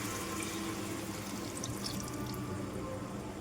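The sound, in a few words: pouring tamarind juice into a curry pan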